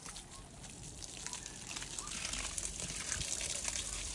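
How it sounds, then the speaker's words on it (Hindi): Water gushing steadily from a pipe or hose onto trees and plants, a broad continuous rush that swells slightly louder toward the end, with no talk over it. "यहाँ पे पानी शुरू हो चुका है।"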